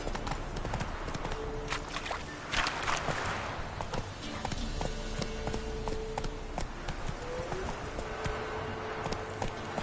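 Roach the horse gallops with a fast, steady clip-clop of hooves in The Witcher 3, set against a dense game soundscape of music and ambience, with occasional voice snippets.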